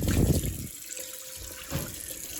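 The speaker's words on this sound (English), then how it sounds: "take some water. And we are going to rinse this thing out." Tap water runs and splashes into a cast iron skillet as it is rinsed out, a steady close rush with gurgling changes and a brief louder surge near the end, no talking.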